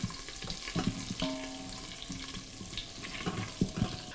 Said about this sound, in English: So I have 6 tablespoons of butter. We're going to go ahead and put that in there and start melting this off